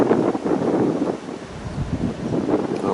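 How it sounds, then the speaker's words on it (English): Outdoor wind buffets the microphone beside a BNSF rail line near a creek in Ashland, Nebraska, a continuous, loud, rumbling roar with rising and falling gusts and no voices. "A little windy today, sorry guys, I'm doing the best I can."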